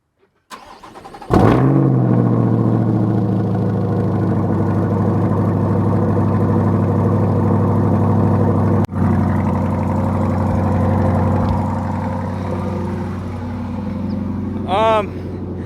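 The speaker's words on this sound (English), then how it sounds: "we're gonna get a 6:30 a.m. cold start with the Corvette" A Corvette C8 engine cold-starts early morning, cranking and bursting to life with a loud roar, then settles into a steady, heavy rumbling idle that carries on close by.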